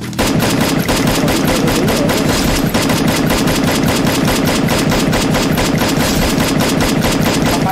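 Dense rapid gunfire from the Free Fire battle royale game, automatic weapon bursts rattling continuously and loudly throughout with no pauses or voices.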